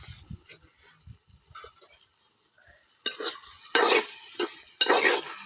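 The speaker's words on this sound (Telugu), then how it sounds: "ఒకసారి బాగా మిక్స్ చేసుకోండి" Egg curry with freshly ground homemade masala of coriander seeds, cinnamon, cloves and cardamom stirred in a pan: faint scattered clinks at first, then several loud close scraping strokes of a spoon against the metal, with no voices.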